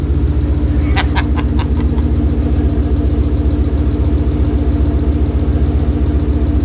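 A Ford Coyote V8 swapped into a wagon idles smoothly on first start, a deep steady low rumble close by, with a brief cluster of sharp clicks early on.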